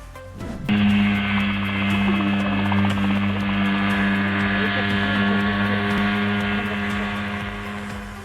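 A homemade helicopter with a simple metal frame and open-air seat hops around on the spot, its engine starting abruptly and then droning loud and steady with a strong tonal hum.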